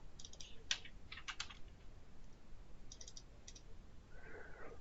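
Faint computer keyboard typing in a quiet room, with short clusters of keystroke clicks separated by pauses.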